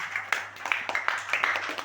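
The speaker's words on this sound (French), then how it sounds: "Installez-vous sous les applaudissements" An audience at a stage hypnosis show applauding, a scattered patter of hand claps at moderate distance, fairly soft and uneven.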